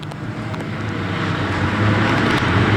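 Race cars roar steadily around Bovingdon Raceway, a continuous dense engine drone heard from trackside that swells slightly as the pack passes, with no talk.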